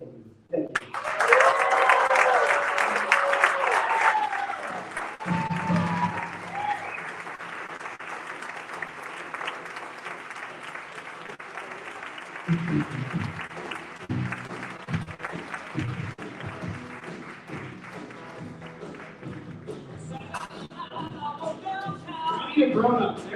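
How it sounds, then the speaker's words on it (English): Audience applause after a personal story at a motivational event: loud clapping swells at the start, then continues more unevenly with voices mixed in and a late surge near the end. "How about another round of applause for that story, you guys?"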